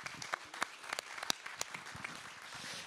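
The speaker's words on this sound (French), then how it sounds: "On vous applaudit tous et on laissera ensuite la place." Applause from an audience at an internal company presentation, scattered individual claps standing out over a soft, fairly quiet patter that continues throughout.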